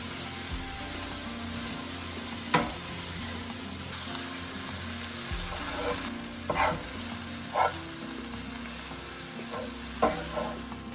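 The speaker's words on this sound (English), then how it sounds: "we want to cook this in the pan until the spinach is wilted. So just saute that together." Spinach and sun-dried tomatoes sautéing in a pan, a steady low sizzle with occasional scrapes and clicks of a utensil stirring, fairly quiet and without talk.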